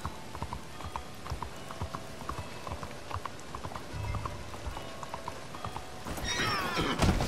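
A horse in the video game Red Dead Redemption 2 clip-clops steadily on a rainy day, then neighs loudly near the end.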